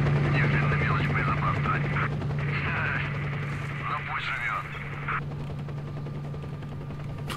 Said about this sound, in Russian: Что-то я подзабыл, что в игре, оказывается, еще и вертолеты есть